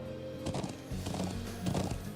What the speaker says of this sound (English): Oh, that's so cool, horses. I love horses.